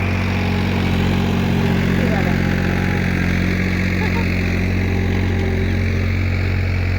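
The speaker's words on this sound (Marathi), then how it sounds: "तिकडून ट्रॅक्टर आला" A tractor engine runs in a farm field during harrowing, giving a loud, close, continuous low drone that holds steady throughout.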